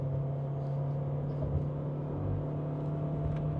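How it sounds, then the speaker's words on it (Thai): A Toyota Corolla Cross GR Sport pulling away from a start, heard from inside as a steady low engine hum and drone with road noise, even and moderate in level throughout, without talk. "นี่ครับเร่งเครื่องครับออกตัว"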